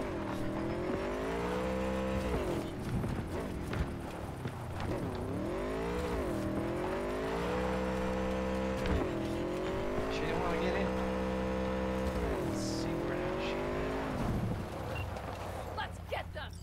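A car driven in Cyberpunk 2077, its engine revving and shifting through repeated rising pitch sweeps, with tire noise and voices talking over the drive.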